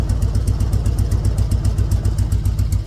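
A 2003 Harley-Davidson Road King with a freshly adjusted carburetor idles close by, its V-twin thumping in a steady, loping rhythm with a faint mechanical clatter on top, no voices.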